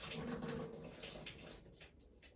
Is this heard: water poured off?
yes